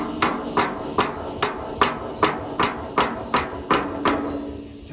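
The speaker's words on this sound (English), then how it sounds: "I'm just going to go ahead and take the baby sledge." Small sledgehammer tapping a bushing out of a frame during a teardown, about ten sharp metallic knocks in a steady rhythm, close and clear with no talk.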